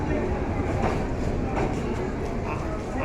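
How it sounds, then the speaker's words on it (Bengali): Dolonchapa Express passenger train pulling into a station platform, a steady loud rumble of wheels and carriages filling the whole stretch without pause. "এসে দাঁড়িয়েছে দৌলতচাপা এক্সপ্রেস।"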